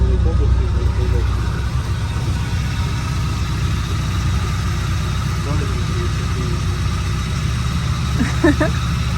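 A Suzuki Carry van's engine idles steadily with a low continuous hum close by, with faint voices speaking over it.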